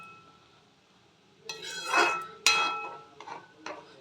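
A cooking pot of chicken soup is lifted off the stove with a couple of sharp metallic clanks and scrapes against the burner, close and fairly loud in a quiet kitchen.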